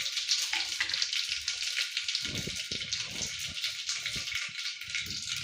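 Cumin, mustard seeds and curry leaves crackle and sizzle in hot oil for Gujarati kadhi, a steady bright frying hiss with scattered pops and spits, close and fairly loud, with no talking.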